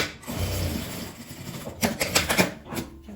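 A domestic sewing machine stitches fabric for a small multipurpose pouch, a quick burst of rapid mechanical whirring and clicking runs close up after a brief pause of softer handling noise.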